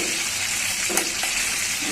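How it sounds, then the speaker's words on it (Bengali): Pieces of farm chicken fry in hot oil until lightly browned for chicken biryani, giving a steady, close crackling sizzle with a brief stir midway. "একটু বাদামি করে ভেজে নিব"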